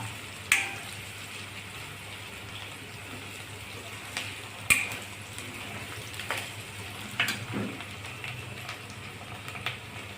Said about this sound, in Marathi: छान मिरची आणि कांदा लाल होजेपर्यंत तुम्ही परतून घेऊ शकता